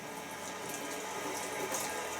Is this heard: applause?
no